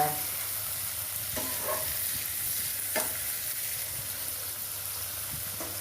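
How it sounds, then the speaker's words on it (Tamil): Bell pepper (capsicum) sautéing in a pan for dragon chicken, a loud, steady close-up sizzle with occasional scraping stirs and no voices. "குடமிளகாவையும் நம்ம நல்லா வதக்கிக்கிடுவோம்."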